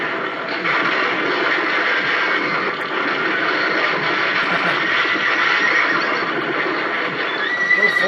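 A horse neighs and whinnies in a film scene, with clip-clopping hooves mixed into a dense, steady soundtrack that stays loud throughout.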